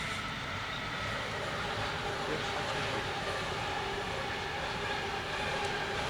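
A train rumbles past on squealing rails in Hauneck, Germany, a steady, dense roar of wheels on rails, with no voices.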